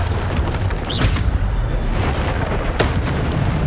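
Muffled, rumbling booms from Bombarda spell explosions in Hogwarts Legacy roll one after another over a dense, loud in-game battle backdrop, with a few sharp bursts standing out.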